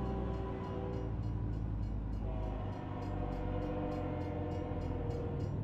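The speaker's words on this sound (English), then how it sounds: "there's a train coming" A train rolls past a truck in American Truck Simulator, its rumbling wheels and engine droning steadily while repeated horn blasts sound throughout.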